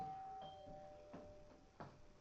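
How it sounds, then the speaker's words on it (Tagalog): A faint electronic doorbell chime rings out a few soft tones in a quiet Airbnb room in Thailand, distant and thin against low background hiss. "So may nag-doorbell."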